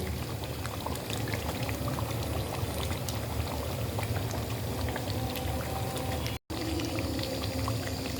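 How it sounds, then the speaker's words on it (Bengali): Beef korma simmering in a pot as green chillies and ghee go in, a dense bubbling and burbling of thick gravy that runs steadily and close, with one brief break near the end. "এখন দিয়ে দিচ্ছি কাঁচামরিচ দিয়ে দিচ্ছি ঘি"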